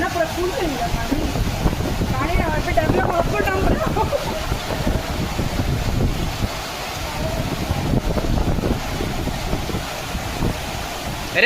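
Floodwater pouring through the broken wall of a lake boating area after heavy rain, a loud, continuous rushing roar with voices talking over it.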